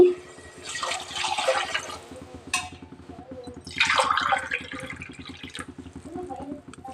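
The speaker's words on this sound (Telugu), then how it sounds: "నాలుగు గ్లాసులు వాటర్ అయితే వేసుకుంటానండి" Four glasses of water splash and pour into a pan for upma in two bursts, with a low hum and a voice talking underneath.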